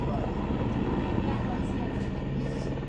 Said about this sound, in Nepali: हेलिकप्टर छिटो आउँदो रहेछ